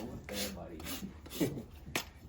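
Farrier trimming a healthy horse hoof: short scraping rasp strokes and a few sharp knocks, close and quiet, in an uneven rhythm.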